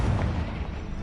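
A fire spell blast in the Hogwarts Legacy video game, a short low rumbling burst of flame and impact, dense and booming, alone with no talk over it.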